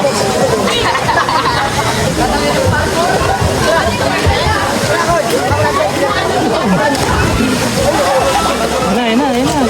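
Waterfall at a cave spring in Tanay, Rizal, its loud continuous rushing and sloshing close by, with voices talking faintly under the roar.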